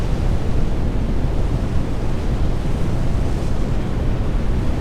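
Wind and waves in the NAUTIS ship simulator form a loud, continuous broadband rush of surf and gusting wind, steady throughout with no voices.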